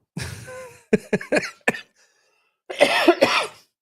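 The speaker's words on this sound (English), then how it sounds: "Excuse me for coughing in your ear." Several sharp coughs close to the microphone, a quick cluster of harsh bursts followed after a pause by another rougher fit of coughing.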